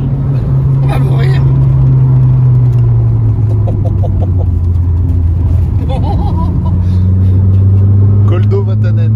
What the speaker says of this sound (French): le 4 cylindres incroyable qui est en train de donner tout ce qu'il a